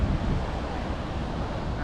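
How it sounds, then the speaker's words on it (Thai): Roaring rush of the largest waterfall in Laos, a steady, dense broadband wash that fills the whole clip with wind buffeting the microphone. "นี่ น้ำตกใหญ่ที่สุดในประเทศลาวเลย"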